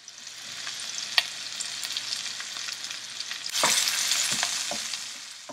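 Cumin seeds, chopped onions and green chili fry in hot oil for tomato masala rice, making a loud, continuous sizzle broken by scattered spoon clicks and a burst of stronger crackling partway through.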